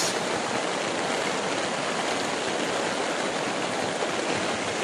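Flood water rushes steadily along a Metro Manila street, a loud, continuous broadband roar with no voices.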